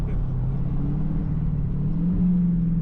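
Inside a cammed Dodge Hellcat Charger while driving, the supercharged engine gives a steady low rumble and a faint rising whine that builds slightly toward the end.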